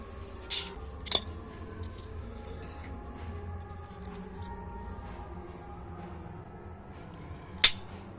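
A spoon scooping potato filling onto round bread slices: three sharp metallic clinks of spoon against dish, two close together early and one late, separated by a long quiet stretch with faint soft scraping.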